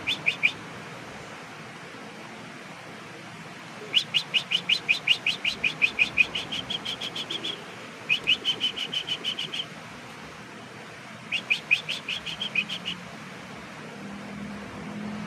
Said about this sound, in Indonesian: waktunya meloloh anakan kenari ya